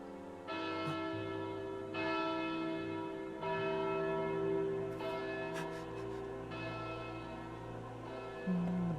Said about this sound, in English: Bell tolls.